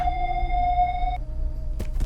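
Ambulance-like siren of the Seek creature in the horror video game DOORS, a steady loud electronic wail holding a high tone for about a second before cutting out, followed by two brief bursts near the end.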